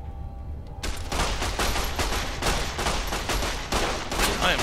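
Sustained gunfire in a Fallout: New Vegas firefight, with dense overlapping shots and bursts erupting after a brief quiet opening and continuing loud and unbroken to the end.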